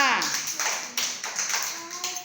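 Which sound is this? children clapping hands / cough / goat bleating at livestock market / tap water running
children clapping hands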